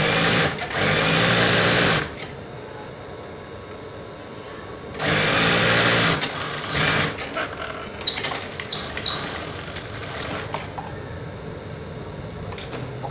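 A sewing machine stitches a bed sheet up close, with loud continuous whirring runs that stop and restart, broken by brief handling clicks and fabric rustle between bursts, and no speech.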